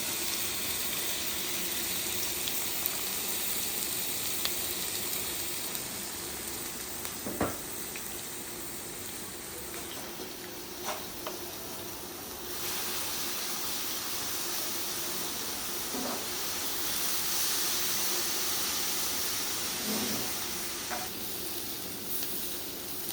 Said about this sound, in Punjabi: ਅਸੀਂ ਅੱਜ ਬਣਾਉਣ ਲੱਗੇ ਆ ਪਿਆਜ਼ ਤੇ ਅੰਡੇ